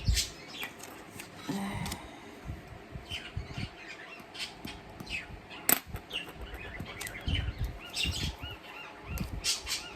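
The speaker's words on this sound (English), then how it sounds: "That's the parrot you can hear." A pet parrot squawks loudly and repeatedly at close range indoors, with bursts of chirps and wing flapping between the harsh calls.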